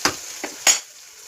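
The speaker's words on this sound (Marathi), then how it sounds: "ती जरा कडवटपणा जावा म्हणून थोडी तेलामध्ये परतत आहे" Fenugreek leaves being sautéed in oil in a pan for besan pitla, three short bursts of sizzle and scraping from stirring, close and fairly loud, with quiet gaps between them.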